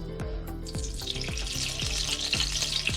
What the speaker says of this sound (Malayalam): അപ്പോൾ നമുക്ക് കുറച്ച് സൺഫ്ലവർ ഓയിൽ ഒഴിച്ച് കൊടുക്കാം കേട്ടോ.